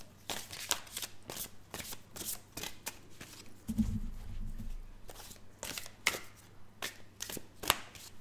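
Tarot cards are shuffled for a reading in a rapid run of crisp, close riffling and slapping bursts, with a short low thud partway through and no voices.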